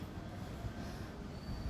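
A local commuter train rumbles steadily nearby with a continuous roar of wheels and carriage noise, with no voices.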